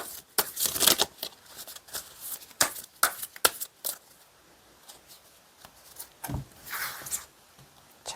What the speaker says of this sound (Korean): 그럼 우리 여러분의 현재 상황에 대한 카드 한번 뽑아 볼게요